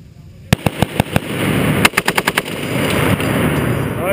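An M2 .50 caliber machine gun fires two loud, sharp bursts, first about five evenly spaced shots and then a quicker string of about six, each crack ringing out over a steady outdoor background rumble.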